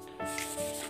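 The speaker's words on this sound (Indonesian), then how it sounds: "Setelah selesai pengamplasan, kita usap seperti ini agar cepat kering." A hand rubs briskly across a freshly sanded wooden surface in one short, close, soft swipe.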